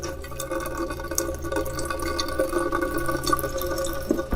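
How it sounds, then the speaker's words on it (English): Water dripping and trickling from an old pipe inside an abandoned building, a steady busy patter of drips over a low hum, close and fairly loud. "There was some water still in the pipe."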